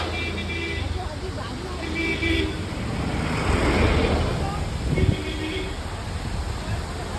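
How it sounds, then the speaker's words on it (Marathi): Steady broadband roar of the crowded Amboli waterfall, continuous and fairly loud throughout, with indistinct voices and background noise mixed in. "आता आंबोली धबधबा बघा कसा आहे"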